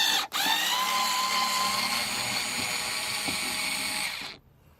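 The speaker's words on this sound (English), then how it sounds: "I've got a little mini cordless drill." A small cordless drill with a T20 bit whirs steadily at close range for about four seconds after a brief catch, then winds down and stops, removing wheel arch screws on a Vauxhall Corsa VXR.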